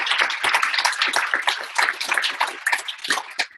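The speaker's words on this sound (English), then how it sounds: "could I just ask for a round of applause to welcome Dr." A healthcare symposium audience claps to welcome Dr. Link to the stage: a dense, steady patter of many hands at close-to-mid distance, lasting a few seconds and tapering at the end, with no talking.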